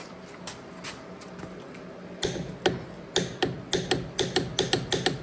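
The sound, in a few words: torque wrench clicking as a rear wheel nut is tightened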